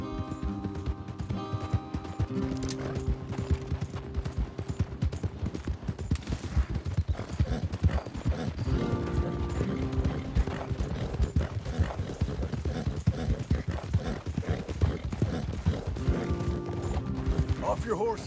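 Hooves of several horses in a Red Dead Redemption 2 western ride clatter in a steady, fast galloping rhythm, loud and continuous, with faint creaks of tack and no talk over it.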